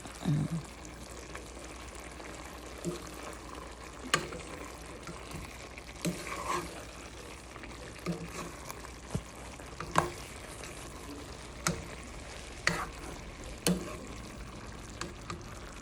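Stir-frying food in a pan in a home kitchen, a continuous soft sizzle broken by scattered scraping and clinking strikes of the utensil, fairly quiet and without talk.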